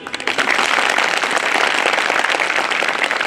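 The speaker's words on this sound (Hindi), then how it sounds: "अपनी है, अपनी तालियां जोर से।" Loud, dense audience applause fills a Bar Council of Delhi enrolment meeting, steady and sustained throughout with no talk over it.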